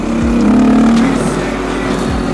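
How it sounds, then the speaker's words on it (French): A KTM motorcycle engine drones loud and close during a wheelie, a sustained throaty roar with slight pitch shifts as the throttle is held, under steady wind rush. "On va se quitter sur un petit wheeling."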